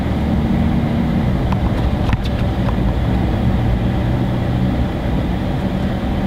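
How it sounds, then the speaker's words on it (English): Steady, loud road rumble inside a VW Amarok pickup crossing a bumpy road, a continuous low drone with a few brief knocks and rattles from the cabin, no voices. "Sorry for the bumpy ride, but we are in a VW Amarok, not known for its smoothness."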